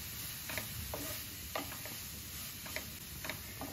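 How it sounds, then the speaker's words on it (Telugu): Grated carrots fry in ghee for carrot halwa, a steady quiet sizzle with a few light spoon scrapes and taps against the pan. "మన క్యారెట్ అంతా పచ్చి వాసన పోయే వరకు నెయ్యిలో వేయించుకోవాలి"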